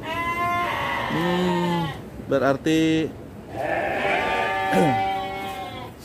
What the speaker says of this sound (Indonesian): kambing atau kandang kambing.